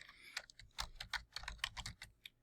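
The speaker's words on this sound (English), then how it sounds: "I'm going to type in the domain here." Quick, light clicks of keys on a computer keyboard, fairly quiet and close, in an irregular rhythm over about two seconds.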